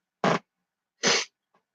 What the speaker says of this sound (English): I'm gonna sneeze in a minute